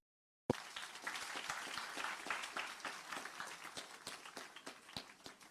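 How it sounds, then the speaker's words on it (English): School audience of students and staff at Guys Hill High School breaking into applause, clapping starting abruptly after silence and continuing steadily, fairly distant and fading slightly toward the end. "Please give yourselves a round of applause."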